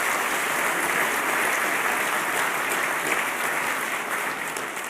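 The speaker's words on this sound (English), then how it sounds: "A round of applause, please, once more for Diederik Samsom." Continuous crowd applause rings out at a technology and economy conference opening, a thick, even wash of clapping that holds for several seconds and tapers slightly at the end.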